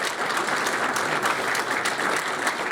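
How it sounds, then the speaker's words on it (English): Audience applause at a college football press conference introducing a new coach, a dense, steady burst of clapping from a room crowd, loud and continuous throughout with no talk. "yes, please clap for that"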